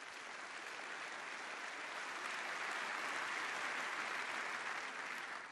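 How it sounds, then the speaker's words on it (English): Sustained audience applause fills a family forum hall, a dense, steady wash of clapping from a large crowd that holds at an even level throughout with no talking over it. "Tom, if you could rise up and wave to the crowd and thank Tom for being here."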